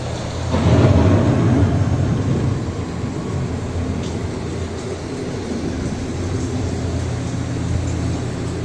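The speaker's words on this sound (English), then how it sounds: "The approaching storm may seem violent and destructive to us, but to nature, it's a new beginning in the cycle of life." Simulated approaching thunderstorm on Epcot's Living With The Land boat ride: a loud rolling rumble of thunder swells early, then a steady low rushing roar like wind and rain continues.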